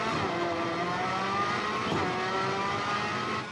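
Simulated race car pulling away from pit road at full throttle, a continuous loud engine drone with steady harmonic tones holding through the whole stretch, no voices.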